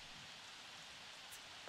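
Steady video game rain falling as a soft, even hiss over a surface, continuous and faint with no distinct drops, no voices.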